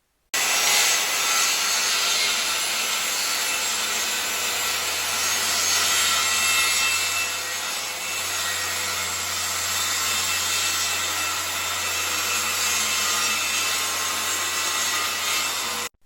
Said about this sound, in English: cut this hardwood plywood into 4 pieces diagonally